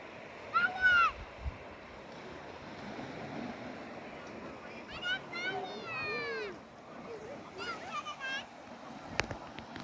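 Sea waves roll onto the beach at Bakkhali in a low continuous wash under wind noise, while voices talk and exclaim over it in several bursts.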